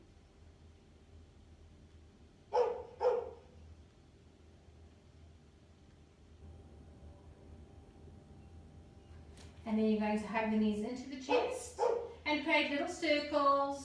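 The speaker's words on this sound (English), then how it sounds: "I'm very sorry for my dog who's barking." A dog barks in two quick yips early on, then barks again in a faster volley later, partly over a woman's calm instructional speech during a gentle yoga session indoors.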